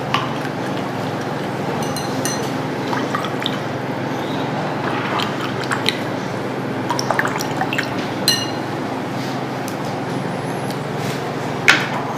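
Indicator liquid is poured into glasses of water during a water demonstration, giving a steady trickling, splashing pour with small drips and clinks of glass, and no voices.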